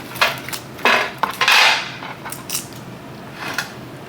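Heavy chopper knife hacking through a bone-in cured smoked ham on a cutting board, a series of sharp irregular chops and knocks, close and loud with no talking.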